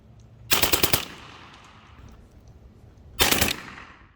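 Two loud, close bursts of rapid full-auto fire from a Western Airguns Mordax Long Strike PCP carbine, each a tight cluster of sharp cracks, separated by a couple of seconds of quiet.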